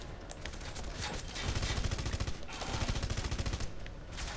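Rapid bursts of gunfire from a weapon in the video game Red Faction: Guerrilla, loud and dense with dull explosive thuds underneath, continuing steadily through the whole stretch.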